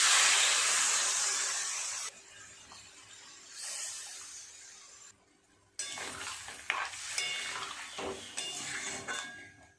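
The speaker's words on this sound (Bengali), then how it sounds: "মশলা দিয়ে খুব ভালোভাবে কষিয়ে নিলাম সমস্ত সবজিগুলো" Cauliflower and potato being stirred and fried with spices in a pan: spatula scraping and clinking against the pan over a steady sizzle, with bursts of stirring between quieter moments.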